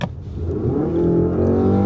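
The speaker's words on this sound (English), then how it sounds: "The engine howls, the transmission is looking for the right gear, and it takes way too long." A Mazda CX with an L engine howls under hard acceleration on the highway, a loud steady drone that climbs and holds as the transmission hunts for a gear, heard without any talk.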